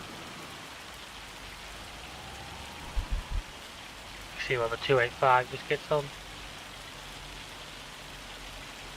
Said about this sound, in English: I'm hoping this hail's going to stop soon